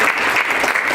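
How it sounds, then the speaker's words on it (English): A brief, loud burst of audience clapping at a GEAR UP Iowa conference session, dense and close, with no voices over it. "Let's just clap for Carmen in her absence"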